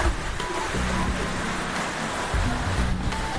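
Water pours down the Putuk Truno waterfall in Pasuruan, making a dense, continuous rushing hiss close by, with a faint low murmur underneath.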